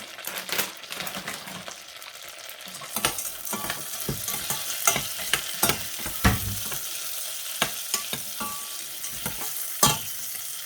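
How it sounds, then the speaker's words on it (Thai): Chili frying in butter in a pan over medium heat gives a steady, loud sizzle throughout, broken by sharp clicks and scrapes of stirring; no one talks. "เราจะทอดพริกก่อนค่ะ"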